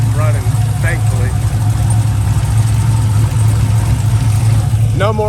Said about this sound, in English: that dang belt squeak. I know you guys can hear it, but the belt's dry rotted